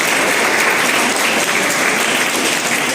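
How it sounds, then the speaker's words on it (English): Dense, loud applause from an audience at a school award function, a continuous hiss of many hands clapping at once with no clear individual beats, close and unbroken throughout. "Please give a big applause to her in her absence."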